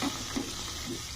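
Prawns frying in oil for a winter bean and prawn mustard chorchori, a soft steady sizzle with a few faint stirring scrapes, heard alone.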